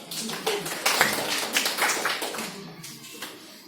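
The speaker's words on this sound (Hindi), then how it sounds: "तालियों की गड़गड़ाहट" A short burst of clapping from a small group, close by, with scattered uneven claps fading toward the end.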